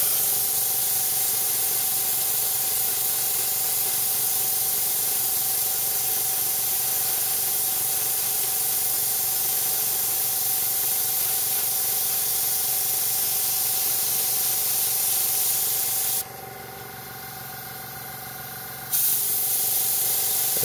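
Airbrush spraying primer onto a Master Grade Sinanju Gundam model kit, a steady close hiss running almost without pause, briefly cut off near the end before resuming.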